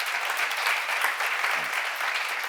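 A church congregation claps in unison during a sermon, dense continuous applause filling the room with no voice over it.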